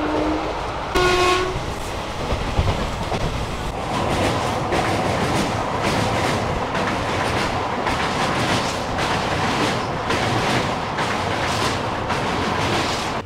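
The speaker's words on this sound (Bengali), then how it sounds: "ট্রেন কিন্তু 100-র গতিবেগে চলছে, মানে 100, 102, 99 এরকম চলছে" Passenger train on the new Kolkata to Digha route running at about 100 km/h near Kolaghat, with a steady loud rumble and clatter of wheels on rail throughout and a brief horn blast near the start.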